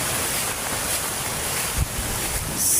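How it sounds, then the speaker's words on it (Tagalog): Wind gusting steadily through a rural yard and swaying bamboo, a continuous broad rushing with a brief stronger gust near the middle and rising again at the end, close and buffeting the microphone. "Ayan ang hangin, bumabakog yung kawayan."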